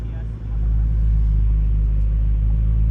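A 2023 Chevrolet Corvette Z06 pulling away, its engine a deep steady low rumble heard from inside the cabin, swelling after a brief dip and holding on as the car gets moving, with a voice speaking over it.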